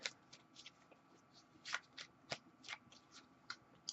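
Tarot cards being shuffled by hand, soft riffling and flicking in irregular bursts, close and quiet with no speech.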